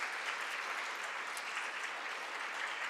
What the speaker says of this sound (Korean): 우리 한번 환영의 박수를 한번 하도록 하겠습니다